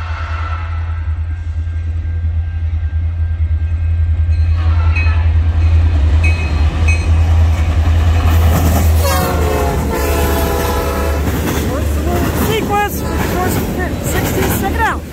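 CN freight train L563, locomotive 5477, rumbles past close and loud at Ladysmith, with clattering wheels and a horn blast; people talk over the noise in the later part.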